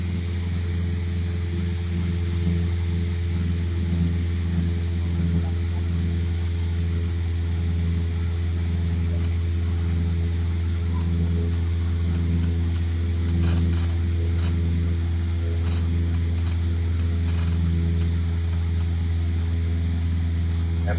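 A training airplane's piston engine drones at full power during the climb, a steady, loud, even hum with constant tonal bands and faint voices under it.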